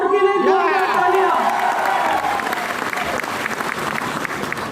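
An audience applauds loudly and steadily for a guest at a promotional event in Guwahati, the dense clapping filling the space with a few cheers and a voice ringing out near the start.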